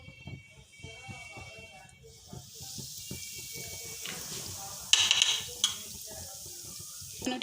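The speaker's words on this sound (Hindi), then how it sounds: "और ऑयल हमारा जो है वो गर्म हो चुका है, अब उसको हम इसके अंदर ऐड करते जाएंगे एक एक करके।" Chicken potato rolls dropped one by one into hot oil, a steady bubbling sizzle building after the first couple of seconds and running beneath continuous talking, with a few brighter crackles near the end.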